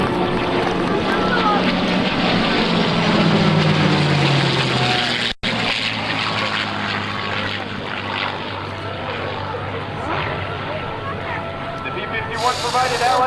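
An F-15 jet and a P-51 Mustang fly past in a USAF Heritage Flight at the 2002 Willow Grove air show, a loud sustained engine roar with a falling tone early on and gusty wind noise.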